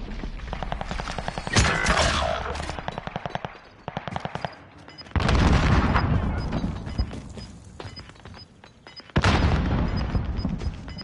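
Call of Duty match: rapid automatic gunfire rattles early on, then two heavy booms like grenade blasts hit hard, each followed by sustained loud rumble and scattered shots.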